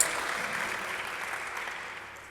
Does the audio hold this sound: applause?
yes